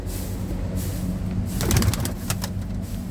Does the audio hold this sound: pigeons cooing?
yes